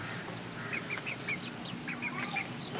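Two naked neck hens cluck softly in a group of lineage-type chickens. Short, repeated clucks come in small clusters over a quiet background, with no voices.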